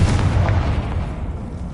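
The Confringo fire-blast spell goes off in Hogwarts Legacy as one deep, booming explosion that rumbles low and fades over under two seconds.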